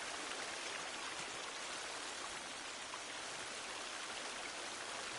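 Steady rushing water in a ravine in the survival game The Forest, a continuous broadband stream-like wash with no let-up, fairly close and alone throughout.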